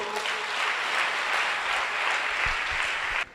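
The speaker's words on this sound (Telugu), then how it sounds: "చప్పట్లు కొట్టు" A church congregation claps together during a Telugu sermon, a dense, steady burst of applause that fills the room for about three seconds and then cuts off abruptly, with no speech over it.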